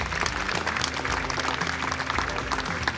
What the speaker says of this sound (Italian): vorrei in questo momento rivolgere a voi un applauso al pubblico bellissimo